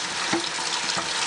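Tap water runs steadily into a sink to wet a foundation makeup brush, a soft continuous splashing hiss with small shifts in flow, close and moderately quiet.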